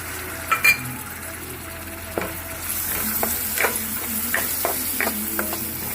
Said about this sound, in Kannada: ಈರುಳ್ಳಿ ಸಾಫ್ಟ್ ಚೆನ್ನಾಗಿ ಫ್ರೈ ಮಾಡಿ